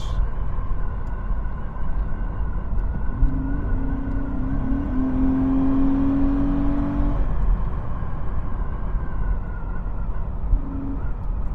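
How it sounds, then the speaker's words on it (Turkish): A 1998 Opel Omega 2.5 V6 drives along with a steady low engine drone and road rumble throughout, a smooth tone rising partway through before settling back to cruising. "Araba gitmek istiyor ama şu anda yol müsait değil."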